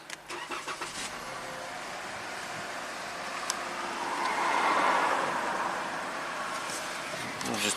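A 2017 Chrysler Pacifica with a Pentastar engine that is eating coolant and shaking is started: a brief cranking churn, then a steady running idle that swells slightly and settles, close and moderately loud, with no talking.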